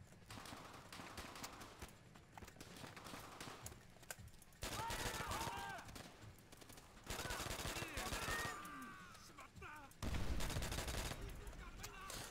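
Sustained gunfire rattles through a Call of Duty: World at War battle, loud bursts of rifle and machine-gun fire rising and falling in waves, with shouted voices and battle noise in between.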